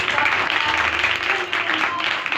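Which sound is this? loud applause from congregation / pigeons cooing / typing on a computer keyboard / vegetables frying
loud applause from congregation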